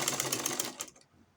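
A sewing machine stitches along the main body fabric of a handmade short, giving a rapid mechanical rattle for just under a second before stopping, with no one speaking.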